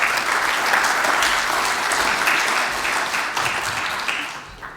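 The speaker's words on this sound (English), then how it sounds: "Give him a big applause." Conference audience applauding a panelist at an audit conference, a sustained dense wash of clapping from a large hall that holds steady and begins to fade at the end.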